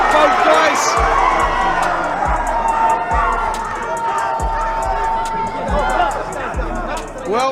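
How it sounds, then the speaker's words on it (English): Loud, dense crowd at a boxing match cheering and roaring continuously, with shouts and whistles rising over a steady wall of noise and a commentator talking through it. "Well, if this crowd weren't animated before, they certainly are now, mate."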